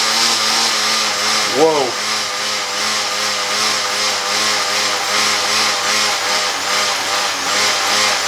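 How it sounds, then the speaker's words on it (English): A cheap Amazon bike trainer whirs loudly and steadily while being pedalled, a droning hum with a buzzing overtone; a brief exclaimed voice cuts in once near the start. "rev this thing up, trainer bike"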